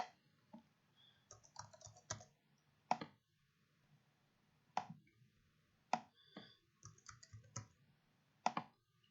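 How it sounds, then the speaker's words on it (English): Gymnastics meet scores being entered on a computer keyboard, sparse, quiet clusters of key clicks with short pauses between bursts, close and isolated in a silent room. "So let me just type in some scores here real quick."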